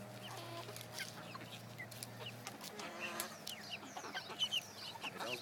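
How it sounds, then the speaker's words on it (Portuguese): Red hens clucking on a farm, several birds making short overlapping clucks and calls at close range, with a steady low hum underneath and no talking. "Separa ele com 5 galinhas."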